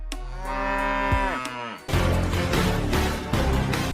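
Deep, drawn-out cattle lowing from a herd of cows, one long harmonic moo sliding downward for the first second and a half, followed by a denser, louder burst of overlapping bovine calls and noise.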